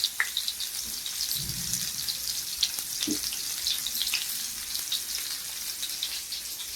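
Stuffed bitter gourds fry together in hot oil, a steady close crackling sizzle with scattered sharp pops running throughout, no voices over it.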